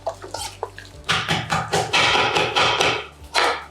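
A scallion stalk is rinsed under a running tap, with water splashing and spattering in uneven bursts alongside a few knocks, close by and moderately loud.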